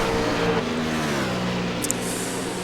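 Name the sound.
other race cars' engines in the iRacing video game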